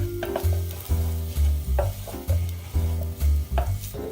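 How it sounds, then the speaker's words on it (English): Food frying in a pan for chicken with broccoli rabe, a close sizzle broken by repeated rhythmic knocks and stirring clatter of a utensil against the pan. "Let that fry for about 30 seconds."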